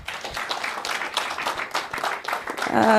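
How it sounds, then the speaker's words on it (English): Audience applause at a tax bills stakeholder session, a moderate patter of clapping from a room of people, steady for a few seconds before a voice begins to speak over it. "Big round of applause for Taiwo."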